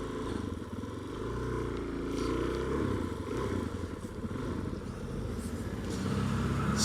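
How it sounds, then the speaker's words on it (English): A motorbike ridden off-road in Hawaii, its engine a steady, loud, rough drone that swells slightly near the end, with no talking. "this is a weird guy in Hawaii riding a motorbike off-road and has a crash"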